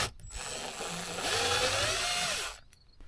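A ratchet spins steadily for about two seconds as it removes a bolt inside a van's headliner, giving a close, continuous buzzing whir that starts and stops abruptly. No voices are heard.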